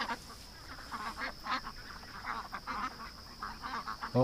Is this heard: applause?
no